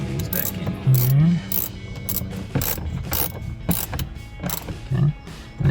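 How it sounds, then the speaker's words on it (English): A ratchet drives two 7mm screws back in while installing a trailer brake control module on a 2015-2020 Ford F-150, giving repeated close clicking bursts over a steady background hum. "next step is going to be getting those 2 screws back in there"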